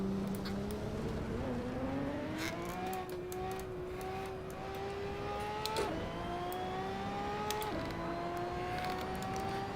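A Ferrari 599XX race car's engine howls continuously at high revs around the Imola circuit in Assetto Corsa, pitch climbing through gears with quick dips at each shift, loud and close from the cockpit.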